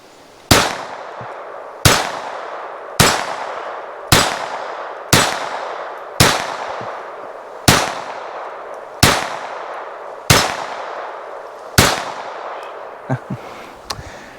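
A Ruger SR22 .22 pistol fires about ten evenly spaced shots, each a loud, sharp crack with a short ringing decay, close and unaccompanied by speech.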